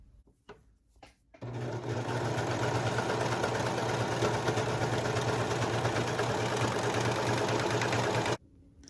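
A sewing machine runs continuously at steady speed while stitching the underarm seam of a T-shirt, a loud, even whirring drone that starts abruptly and stops cleanly after several seconds.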